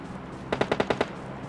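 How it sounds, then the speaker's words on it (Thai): Gunfire in PUBG Mobile on the Sanhok map: a short burst of about six rapid, evenly spaced automatic shots, loud and fairly close, standing alone against a low background hum. "ยังไม่หยุดยิงกันเลยในอีเวนต์เนี่ย"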